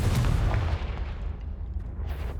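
The Confringo explosion spell goes off in Hogwarts Legacy: a loud booming blast with a heavy low rumble that decays over a couple of seconds, followed by a faint crackle.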